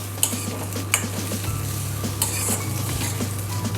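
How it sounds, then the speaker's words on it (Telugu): Homemade paneer frying in a pan until browned for paneer butter masala, a loud continuous sizzle with periodic utensil scrapes and clinks as it is stirred, over a low steady hum. "కొంచెం బ్రౌనీగా అయ్యే వరకు వేయించుకుందామండి."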